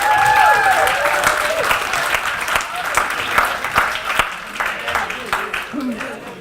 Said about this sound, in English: So can we do one more round of applause?